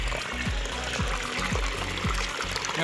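Cold, clear natural water from a mountain stream pours steadily from a pipe at Eravikulam National Park in Munnar, a broad, continuous splashing wash with low bubbling pulses recurring about every half second, close by and without talk.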